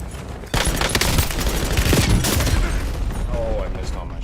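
Rapid gunfire in the Call of Duty Warzone video game breaks in after a brief quiet moment and then rattles on loudly and densely for about four seconds, with shots overlapping in a sustained barrage.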